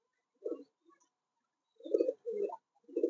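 Bombay pigeons coo in a few soft, short bursts separated by silence, close and fairly quiet.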